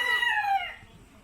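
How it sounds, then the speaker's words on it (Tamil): Japanese bantam roosters fighting at a bird sanctuary let out a single strained crowing cry, near and fairly loud, that tails off into quiet. "ஒரு சேவல் வெளில இருக்கிறதுனால இன்னொன்று ஒரு சேவல்கிட்ட சண்டை செய்யுது"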